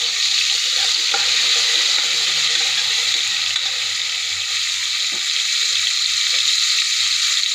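Carrot and potato pieces fry in a hot pan for a vegetable palav, giving a steady, close hiss of sizzling oil that runs without a break, with a few faint clinks and stirring sounds and no voices.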